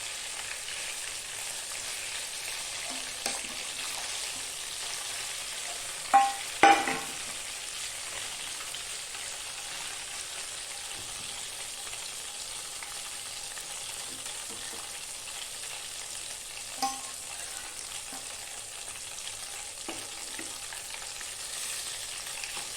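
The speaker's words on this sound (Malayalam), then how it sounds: "അതിനുശേഷം ഫ്ലെയിം മീഡിയം ടു ഹൈ ആയിട്ട് വെക്കുക. ചിക്കൻ ഒന്ന് പൊരിഞ്ഞ് വരട്ടെ." Chicken deep frying in hot oil over a medium-high flame, giving a steady, even sizzle throughout with a few brief louder clinks and scrapes from a utensil.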